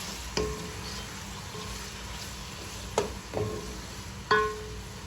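Chopped tomatoes fry quietly in a pot for yakhni pulao, a low steady sizzle broken by a few sharp scrapes and knocks of a spoon stirring against the metal.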